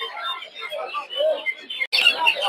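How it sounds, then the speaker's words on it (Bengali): Quail chirp at Putia poultry market in Narsingdi, a busy scatter of thin, quick tweets over a brief pause and a louder burst near the end. "এই জায়গায় অনেকগুলো কোয়েল পাখি।"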